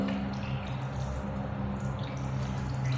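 Water runs steadily over a surface just treated with Magiclean stain and mold cleaner, giving a continuous soft splashing with faint drips and no talk.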